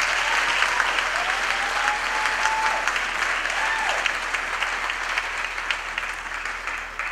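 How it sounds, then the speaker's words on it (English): A graduation ceremony crowd gives the parents a round of applause, steady dense clapping from a large hall audience that carries on loud and unbroken for several seconds. "I want you to please give the parents a big round of applause."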